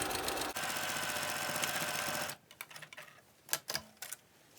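A sewing machine stitches an Olson face mask in a steady, rapid mechanical run for about two seconds, then stops, leaving a few faint clicks and handling noises.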